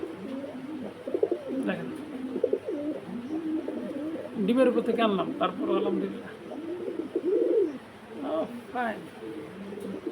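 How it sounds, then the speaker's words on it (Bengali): A pair of pet pigeons offered for sale coo repeatedly at close range, the low rolling calls running beneath someone talking. "এক জোড়া কবুতর আছে"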